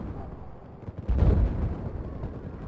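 Mortar rounds landing in the video game Battlefield 4, a dull, heavy blast that swells midway through, set against a continuous low rumble of battle.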